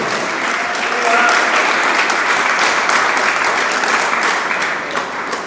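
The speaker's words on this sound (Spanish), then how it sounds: "Alabe y dele palmas al Señor." A church congregation clapping hands in praise during a sermon, dense sustained applause that fills the whole stretch, loud and steady.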